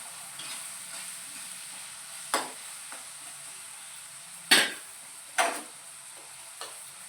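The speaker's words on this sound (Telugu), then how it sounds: "ఉప్పు వేసుకుంటే తొందరగా ఉల్లిగడ్డలు మగ్గుతుంది" Onions frying with salt in a pan during curry preparation, a faint steady sizzle with a few short louder bursts of stirring or spattering, no talking.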